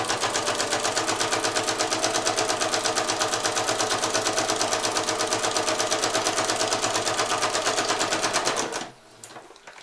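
A sewing machine stitches cork fabric backed with firm interfacing, a fast even mechanical chatter running steadily for about nine seconds before stopping abruptly.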